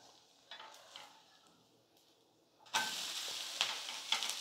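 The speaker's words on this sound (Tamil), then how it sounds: "இப்போ திருப்பி போட்டுக்கிறேன்." Quiet, faint pan sounds give way to a sudden loud hiss as an onion-topped dosa is flipped onto the hot pan and keeps sizzling strongly close by.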